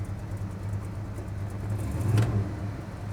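A 1969 Dodge Super Bee's 383 V8 idles steadily with a low, even hum, swelling briefly louder near the end; no voices.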